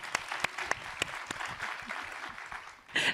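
A roomful of people applauding at a biomimicry expo session on AI and biodiversity: moderately distant, fairly quiet clapping with a few sharper individual claps standing out, swelling again briefly at the end.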